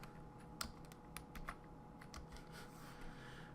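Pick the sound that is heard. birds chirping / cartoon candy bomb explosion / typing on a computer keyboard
typing on a computer keyboard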